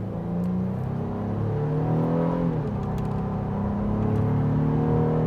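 A 2024 Honda Ridgeline Black Edition pickup picks up speed, its engine note rising and shifting in pitch as it accelerates, with a steady loud drone and road hum heard from inside the cab.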